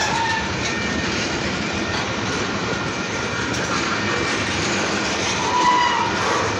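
A freight train passing close on the tracks, with a continuous rumble and clatter of wheels over rail joints and faint metallic squeals, steady and loud throughout.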